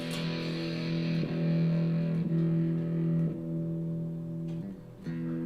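Distorted high-gain electric guitar through a Line 6 amp modeler, a sustained chord ringing loud and steady with a few re-strikes and brief pick noises, no voices.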